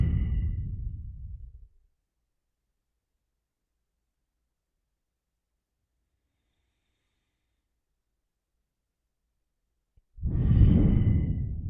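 A slow, breathy exhale during a guided meditation, heard close and soft, trailing off into about eight seconds of silence before another long breath out begins.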